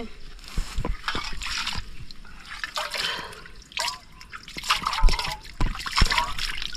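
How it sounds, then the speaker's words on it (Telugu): Spring water seeps and trickles out from under a rock outdoors, a close, steady liquid trickle broken by irregular sharp drips and small splashes, with a voice talking intermittently over it. "ఈ రాయి కింద అనేది మనకి ఊట వస్తుంది"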